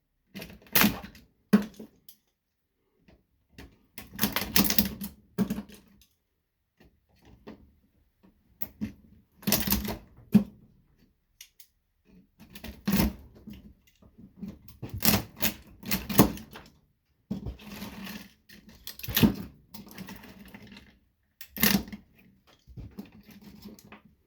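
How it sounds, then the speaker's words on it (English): Small copper pieces pried and popped out of an old computer monitor during scrapping, making irregular sharp clicks, snaps and metallic clatters in bursts separated by quiet gaps, close by and with no talk. "Pop these little pieces of copper out of there."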